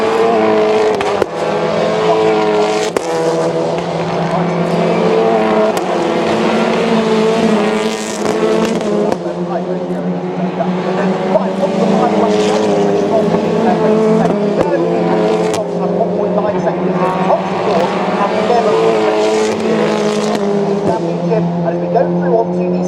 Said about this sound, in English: Isaac Smith's car looks so fast